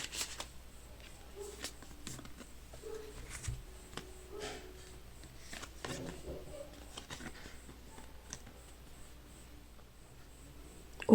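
Tarot cards are shuffled and drawn by hand at close range, soft papery riffles, slides and light taps scattered across the stretch, with faint background hum and speech at moments.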